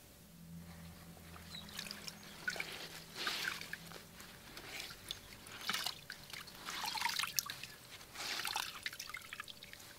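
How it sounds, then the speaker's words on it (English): Running water splashes and trickles unevenly as a shirt dyed with hue-chromic dye is rinsed under a cold tap, in faint bursts with a steady hum beneath. "I'm going to wring it out and then go rinse it under cold water"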